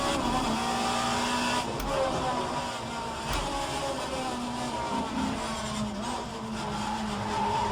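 An Alfa Romeo 155Ti race car in a racing video game at Bathurst, its engine droning steadily at high revs with tyre noise and brief gear-shift dips, loud and continuous throughout.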